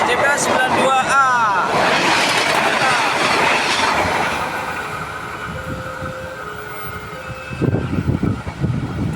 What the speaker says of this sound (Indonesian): Ternyata kereta api berantas teman-teman.